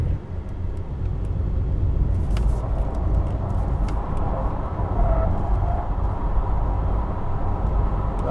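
A Porsche sports car sliding through a long drift of roughly 200 metres on a track, its engine and road roar a loud, steady rumble throughout with no letup.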